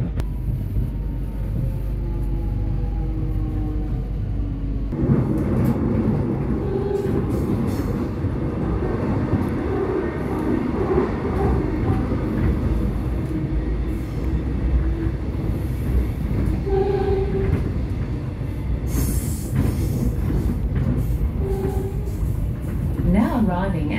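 Melbourne suburban train riding toward Fairfield, heard as a loud continuous interior rumble with rail noise and occasional squeals, with voices, likely station announcements, in the background.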